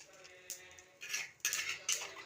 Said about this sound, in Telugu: గరిటెలు ఎంత బాగా చప్పుడు అవుతుంటే అంత బాగా ఎక్కువ అన్ని రకాలు ఎక్కువ చేస్తున్నామని అర్థం.